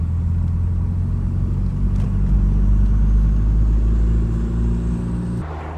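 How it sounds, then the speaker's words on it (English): Ford Sierra RS Cosworth with a freshly refitted rear spoiler pulling out of a garage, its engine a loud, steady close-up rumble that holds throughout before dropping off sharply near the end. "I'm going to quickly take the car out since I've changed that sail."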